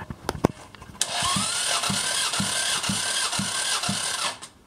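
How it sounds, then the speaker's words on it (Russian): A Toyota 1AZ-FE engine cranks over on the starter during a compression test, a steady rhythmic whirring with regular pulses from each compression stroke, preceded by a few sharp clicks and ending abruptly. "Замер компрессии. Двигатель Toyota"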